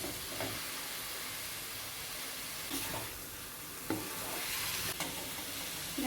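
Pork frying in a pan, a steady close hiss of sizzling oil broken by a few scraping stirs of the spatula, with no talking.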